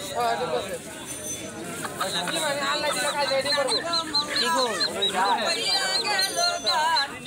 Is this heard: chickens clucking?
yes